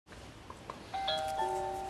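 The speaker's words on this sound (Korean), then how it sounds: "열쇠 안 쓰고 일부러 초인종 누르고" A doorbell rings at the front door of a 1979 house remodeled by a young couple, a faint two-tone chime rising from low background hiss with no talk.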